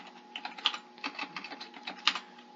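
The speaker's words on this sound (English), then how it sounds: "Typing my last name there so you just have the visual." Keys tapped on a computer keyboard at close range: a short, uneven burst of soft clicks with a couple of sharper keystrokes, over a faint steady hum and without talking.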